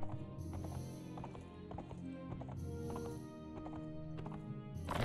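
Horses left standing in a castle setting in Mount and Blade Warband, hooves clopping softly and irregularly beneath a continuous droning game soundscape, with no one speaking.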